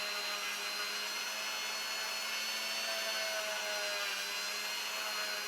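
A Glock trigger connector is sanded and polished with a steady, continuous abrasive whir that holds an even, moderately loud level from start to finish, close by and with no talking.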